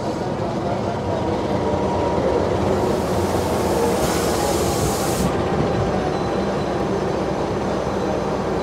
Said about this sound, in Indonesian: Dan masuk di jalur 4 Argo Cherry.